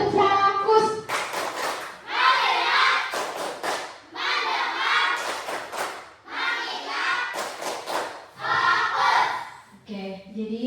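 Classroom of primary-school pupils performing the 'tepuk fokus' clapping chant, rhythmic bursts of group hand claps alternating with children's chanted voices, loud and close throughout.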